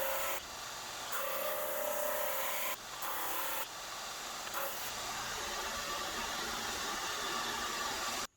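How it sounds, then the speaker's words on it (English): A drum sander, also called a surface sander, runs steadily over a stone surface, making a loud, continuous close hiss and rasp with a few brief shifts in pressure. "For finishing, I'm going to use my drum sander, or surface sander"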